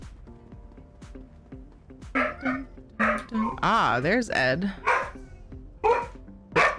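A dog barks with a Kong toy in its mouth, producing muffled, mouthy woofs and whining yips in a loud cluster midway, under and between a person talking.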